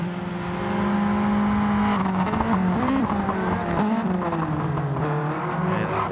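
Several sim racing cars roar close together in a steady, loud engine drone with shifting pitch as they chase through a corner, with a faint whine of tyres.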